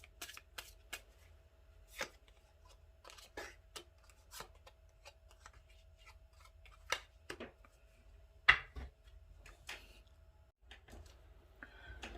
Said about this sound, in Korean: 조언 카드 2장 뽑아보겠습니다.